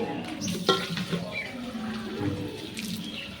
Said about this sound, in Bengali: ওই দেখো কলের জল এসেছে এবার আমি কলের জলগুলো নিয়ে নেবো